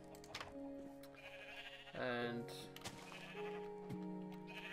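Sheep bleat repeatedly in the video game Minecraft, several wavering, tonal calls overlapping in a farm pen, fairly close and clear, with a brief spoken word near the start.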